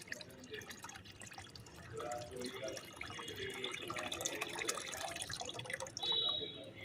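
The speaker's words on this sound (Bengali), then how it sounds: "ভিজিয়ে নেওয়ার পর যে লিকুইডটা তৈরি হয়েছে, এই লিকুইডটা ছেঁকে আমি এর মধ্যে ঢেলে দিচ্ছি।" Strained liquid fertilizer made from soaked banana peels is poured into a container, a soft, quiet trickle that swells and runs steadily, with faint drips near the end.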